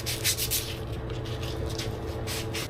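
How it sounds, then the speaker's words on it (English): Abrasive roughing of a PVC pipe's glue contact surface during a sump pump replacement in a flooding basement: steady, close rubbing strokes over a constant low hum, with no talking. "Rough up the contact surface for the glue."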